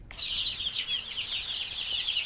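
Chickens in a backyard give a brief sharp call and then a continuous stream of high chirping clucks, close and fairly clear over quiet background.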